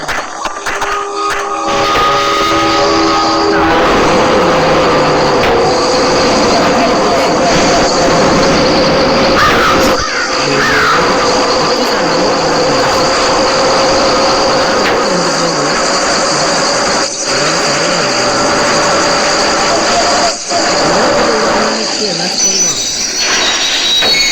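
A train from the Spider Train video game rumbles loudly and continuously, with a high metallic squeal and a droning hum layered throughout, and a voice talks briefly over it.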